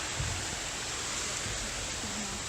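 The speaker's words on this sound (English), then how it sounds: "A little waterfall here." A small waterfall in Kentucky gives a steady, soft rushing hiss of falling water, constant and fairly faint throughout with no voices.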